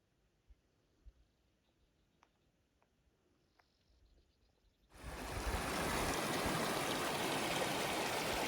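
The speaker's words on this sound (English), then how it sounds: "I just crossed that creek" After a few seconds of near quiet with faint ticks, loud rushing water from a creek in Monache Meadow suddenly fills the scene at close range and keeps up a steady, dense roar.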